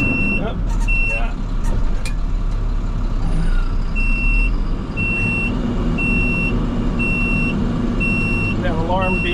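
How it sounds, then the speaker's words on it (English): A garbage truck's tailgate-open alarm beeps steadily in a regular repeating pattern over a loud idling truck engine, close and prominent throughout, with brief hiss and rattles. "That alarm beeping means my tailgate is open."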